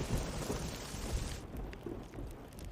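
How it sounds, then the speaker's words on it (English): Steady rain hisses loudly with a deep rumble of thunder underneath, the downpour easing slightly partway through. "It's starting to rain."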